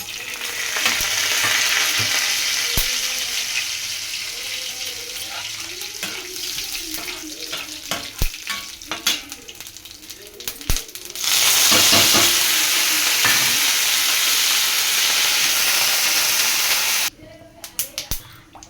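Tempering spices and garlic sizzle and crackle in hot oil, with scraping stirs and bursts of spattering, a loud steady fry that cuts off near the end, briefly under a voice.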